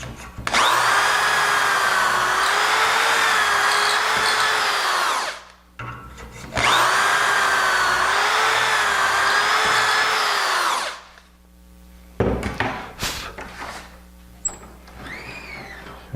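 A power drill bores dowel holes into wood in two long bursts, each whining for about five seconds with a brief pause between, followed by clattering handling noises.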